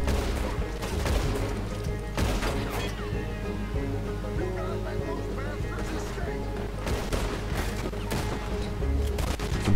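Rapid bursts of Red Dead Redemption 2 gunfire crack repeatedly, with a steady rumble of rain beneath and a few sharper volleys near the start and end.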